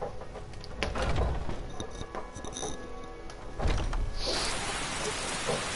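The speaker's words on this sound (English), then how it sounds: "Let's wait a couple hours, see if the rain goes away." Heavy rain pours in the Skyrim wilderness, a steady hiss of drops with scattered sharp patters and a low rumble, rising in intensity partway through, with no voices.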